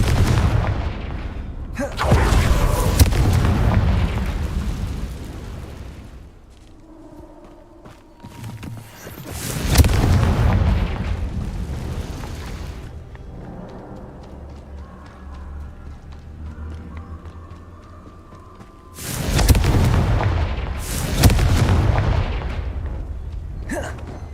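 Spell explosions from the Confringo blasting curse in Hogwarts Legacy go off as three heavy booming bursts spaced several seconds apart, with a rumbling game soundscape between them.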